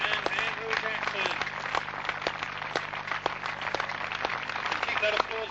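Crowd applause for the top three riders of the 1993 British cycle speedway individual championship, a sustained patter of clapping from a modest outdoor crowd with a few sharp claps, steady and moderately close, while a voice talks over it.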